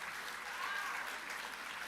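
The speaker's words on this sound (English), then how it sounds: "another round of applause for all our honorees for the Long Service" Audience applauding at a university long service and excellence award ceremony, a steady wash of hand clapping at moderate distance, even and sustained with no pauses.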